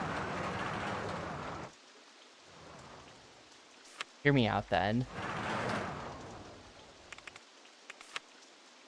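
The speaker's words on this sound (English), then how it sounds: "Oh shit, it's raining." Rain ambience in the video game Rollercoaster Tycoon on Xbox, a soft hiss of falling rain running under someone talking, with brief game chimes and clicks in the middle and toward the end.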